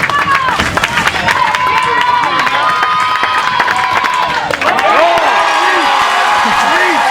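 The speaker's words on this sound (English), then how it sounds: "The crowd of 25-35 on their feet" A small softball crowd of about 25 to 35 fans on their feet at a Super Regionals game, Missouri against Washington, cheering and shouting steadily with claps and whistles throughout, loud and continuous.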